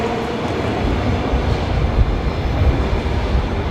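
A USAF C-17 transport aircraft departs Brisbane Airport with a loud, broad, continuous roar of jet engines that swells slightly mid-way. No talking is heard.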